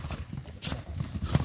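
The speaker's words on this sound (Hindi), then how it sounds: "ए घोड़ा भागा आ रहा फुल।" A horse galloping in a village during neza bazi riding practice, quick close hoofbeats thudding in an uneven rhythm over a short burst.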